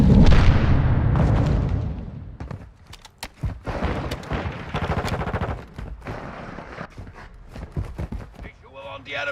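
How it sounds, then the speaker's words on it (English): Grenade blasts and gunfire in Call of Duty: Modern Warfare II on PS5: a heavy explosion opens, followed by scattered sharp shots and bursts, with game voices calling out over the action. "Throwing flash grenade! Throwing Semtex!"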